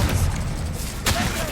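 Spell blasts go off in the Hogwarts Legacy video game: a rapid run of booming thumps and bursts, with one sharp crack near the end, mixed with voices calling out.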